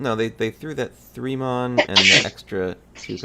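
A single sharp sneeze bursts out close by in the middle of ongoing conversation during a mahjong game, with people talking before and after it.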